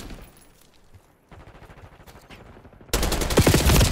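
Rapid automatic gunfire in the shooter Black Ops 6, starting as faint, distant bursts and then jumping to loud, close, sustained firing in the final second.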